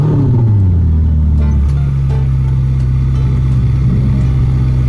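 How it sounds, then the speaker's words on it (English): A Ferrari F8 Tributo Spider's Italian V8 revs loudly and close, its engine note dropping then settling into a strong sustained growl. "I love the sound of an Italian V8"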